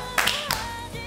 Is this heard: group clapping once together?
yes